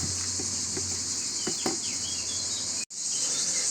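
Birds chirp in short, scattered calls outdoors beside a concrete parapet being painted, set against a constant high insect drone, with one brief silent gap near the end.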